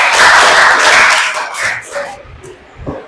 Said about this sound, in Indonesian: Tepuk tangan untuk diri kalian.